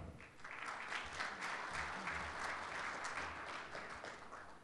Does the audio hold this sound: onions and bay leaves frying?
no